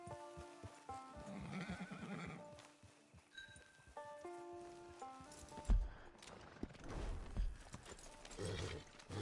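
A horse in Red Dead Redemption 2 neighs and whinnies over a game music score, with clip-clopping hooves and footsteps in between.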